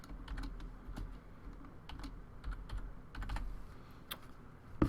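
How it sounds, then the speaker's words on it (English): Fingers type on a computer keyboard in quick, uneven bursts of light clicks and taps, close and fairly quiet, with no talking. "it's going to want you to just basically type I agree"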